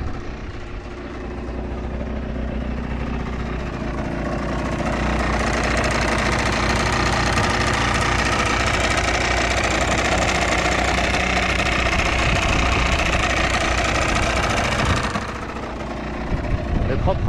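A Yamaha TDR 125 two-stroke motorcycle idling as it warms up, a steady close rattling engine drone that swells slightly louder in the middle before dropping back, with no voices over it.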